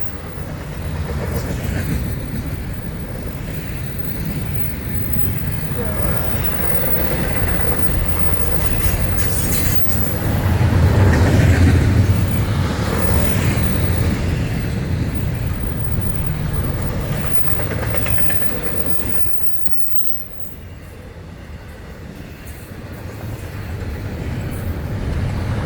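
A train rolls past near homes in Ocean Grove, St. Augustine Beach, building to a loud, rumbling clatter of wheels and cars around its peak before easing back into a lighter passing rumble.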